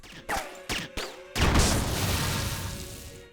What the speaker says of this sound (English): Explosions sound a bit weird though.